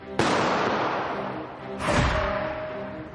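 Two booming blasts of aerial firework shells about a second and a half apart, each a sudden sharp crack that trails off into a long rumbling decay, heard alone and fairly loud.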